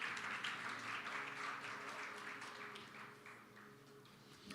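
A congregation in church claps for the Lord during a celebration service, a faint but continuous spread of many hands clapping together at a distance, with a low organ or keyboard hum underneath.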